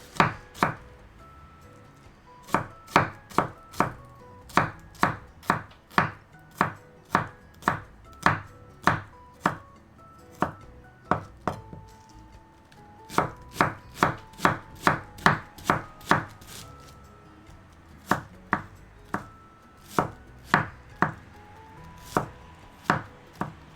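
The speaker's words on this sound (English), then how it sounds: "This may actually be a lot of thinly shredded cabbage." A knife chops thinly shredded cabbage on a cutting board in steady bursts of sharp, crisp thuds, close and clear, with short pauses between runs of strokes and no talk.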